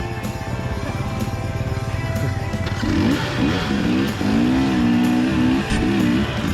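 A 2016 KTM 350 XCF dirt bike runs on forest single track, its engine droning steadily nearby, then pitching up and down through gear changes and throttle blips as the bike climbs and settles.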